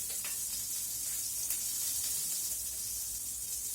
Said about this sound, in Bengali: সর্ষে ফোড়ন দিচ্ছি